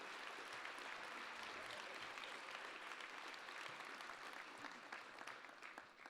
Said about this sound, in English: let's give a warm round of applause to all of our nominees